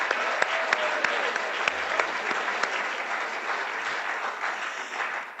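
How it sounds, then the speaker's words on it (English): Audience applause fills an evening event at a business and society gathering, a steady dense wash of many hands clapping at moderate distance with no talk over it. "And while you're clapping, how about a huge round of applause"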